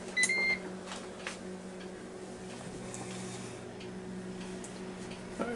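A Ninja Foodi cooker cooking beef ribs hums steadily at close range after its start button is pressed, with faint clicks and beeps over the running appliance.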